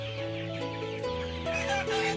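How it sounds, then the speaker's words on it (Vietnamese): Two-month-old Mia chickens in a farm coop give a steady, overlapping chorus of clucks and calls, fairly close and continuous throughout, with no talking. "còn đây là gà được 2 tháng"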